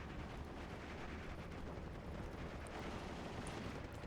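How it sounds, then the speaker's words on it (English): Bombing run by Sparviero aircraft in Steel Division II, a dense, continuous rumble of explosions and gunfire during house-to-house fighting, loud and unbroken throughout with no talking. "Sparviero coming in again for some bombing."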